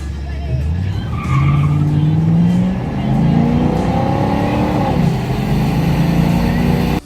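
A 1982 Chevrolet Camaro Z28 revs loudly with rising, surging engine tones and a screech of tires, close and continuous for several seconds.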